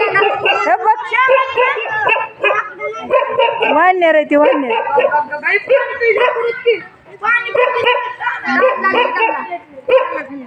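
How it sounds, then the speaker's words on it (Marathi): Dogs bark and yip repeatedly at monkeys in a street, through nearly continuous loud human talk, the barks mixed in with the voices. "कुत्री बुकायलेत त्यांना"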